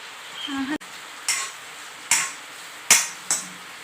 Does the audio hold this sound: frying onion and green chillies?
yes